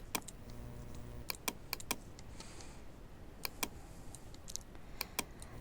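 Quiet, close typing on a computer keyboard, with irregular clicks scattered over a faint steady background hum, including a Ctrl+S shortcut press.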